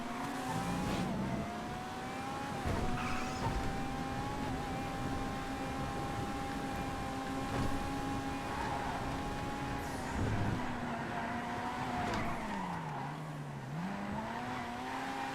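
Race car engines from GTA V FiveM racing, with a sustained high-revving engine whine, gear-change dips and pitch sweeps, and occasional tire squeals running continuously throughout at a steady level.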